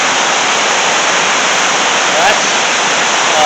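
White water in a river rushes in a steady, loud, close roar that fills the whole clip, with a single brief spoken word over it.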